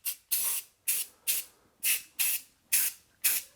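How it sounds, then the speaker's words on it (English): Flat black spray paint hissing from an aerosol can in seven short, sharp bursts, close and isolated, touching up rusty spots on a Colorado's front brake parts. "just take some flat black spray paint, and I'm just going to touch up any rusty spots"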